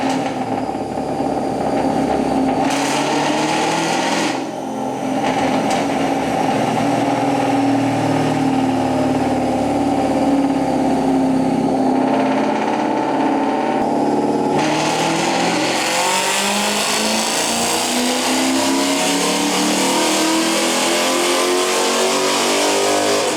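A 1999 Ford Cobra with 268,000 miles on a chassis dyno pull, the engine revving steadily up through the gears with rising pitch, brief shift breaks, then a loud sustained high-rpm roar, close and continuous.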